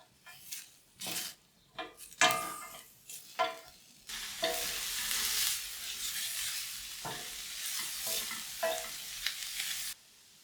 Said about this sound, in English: we'll saute our onions with our leek for a few minutes.